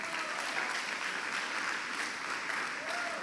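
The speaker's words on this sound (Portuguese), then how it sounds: "Olha, uma salva de palmas aí, gente." Congregation applauding at a church baptism and communion service, honoring those about to be baptized; dense, steady applause fills the whole stretch without pause, moderately loud, with a faint voice or two under it.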